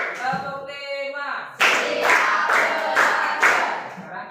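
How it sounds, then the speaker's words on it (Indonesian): A classroom clapping game: a voice calls out first, then a group of students claps in a steady rhythmic run of loud, close hand claps. "Kalau kau suka hati tepuk tangan."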